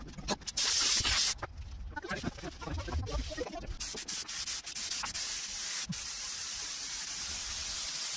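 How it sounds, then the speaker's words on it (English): Power sanding on a large piece of metal ductwork during a truck bed camper build, a loud steady rushing hiss that starts and stops in short bursts before running continuously, close to the listener. "Let me sand this."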